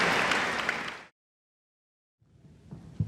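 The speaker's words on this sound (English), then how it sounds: "a rousing round of applause for the tutors and assistants and" An audience at a music workshop applauds the tutors, a dense burst of clapping that cuts off abruptly after a second, then after a short silence faint scattered claps and a low murmur return.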